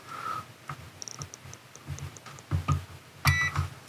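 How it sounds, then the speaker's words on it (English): A short electronic beep from a Goldenmate 1000VA 600W LiFePO4 UPS unplugged from the wall sounds early, followed by a few faint clicks and soft handling noises, with another brief chirp near the end. "There we go, had a beep."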